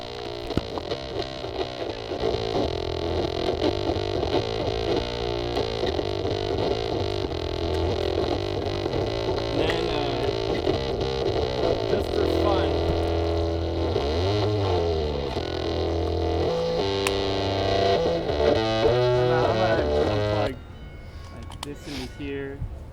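Bass guitar played through a Jext Telez White fuzz pedal gives a distorted, buzzing, sustained tone in repeated notes and slides, loud and close, cutting off near the end, with someone talking.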